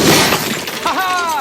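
Glass shatters in a film scene, a loud, bright crash with tinkling fragments that ends in a ringing tone, over a busy background.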